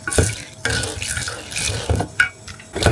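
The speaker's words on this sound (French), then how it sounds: "Alors là, j'en suis à rincer le riz." Tap water runs into a bowl of sushi rice being rinsed, a close splashing flow broken by sloshes and brief gaps as the grains are swirled, with no voices.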